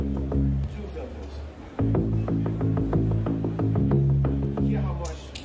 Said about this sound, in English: I discovered that if you put two of these filters together, you get a nice shine distortion thing.